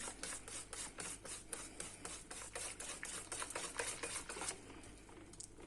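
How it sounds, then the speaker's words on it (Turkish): Rapid, steady strokes of a whisk whipping cream by hand against a bowl, a repetitive clicking swish that slows near the end, with no talking. "Şimdi çırpmaya başlıyorum."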